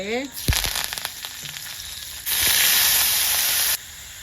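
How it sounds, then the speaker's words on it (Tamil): Mustard seeds and urad dal fry in hot oil while making a banana-stem stir-fry, with sharp crackling pops early on and a loud, steady sizzling hiss in the middle before it eases back. "எண்ணெய் ஊற்றி கடுகு உளுத்தம் பருப்பு பட படன்னு பொரியுது"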